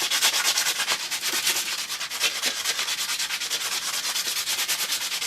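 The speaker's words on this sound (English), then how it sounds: "I've got a bit of sandpaper. I'm just going to sand the ends at the very least." Sandpaper rubs by hand over the ends of a wooden slingshot in quick, rhythmic back-and-forth strokes, a close, steady, raspy scratching with no talking.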